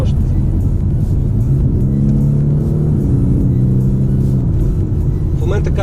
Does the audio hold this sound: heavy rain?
no